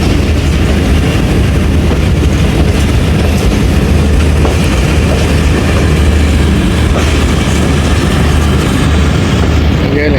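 The Awam Express passenger train rolls along the main line after leaving Gujranwala Cantt, a loud, continuous rumble and rail roar with faint clickety-clack beneath it, heard steadily throughout.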